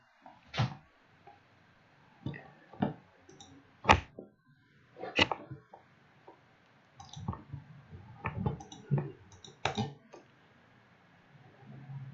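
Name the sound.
typing on a computer keyboard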